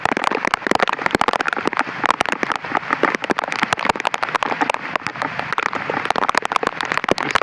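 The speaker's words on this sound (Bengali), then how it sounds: "প্রচুর বৃষ্টি হইতেছে এখন" Heavy rain pours down steadily, dense drops pattering and crackling loudly on nearby surfaces with no pause, and no voices heard.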